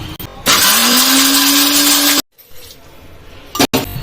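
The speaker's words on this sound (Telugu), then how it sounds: "మంచిగా వాటర్ వేసేసుకొని ఇంకా మెత్తగా పట్టేసుకోవాలి" A mixer grinder grinding peanut chutney roars loudly for about two seconds, its motor pitch rising as it spins, then cuts off; a second brief burst follows.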